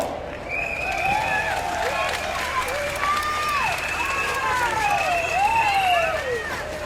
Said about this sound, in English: Everybody, a round of applause.